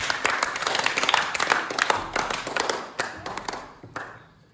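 Students give a lively burst of applause for a classmate, many hands clapping close together at first before thinning out and fading to a few last claps.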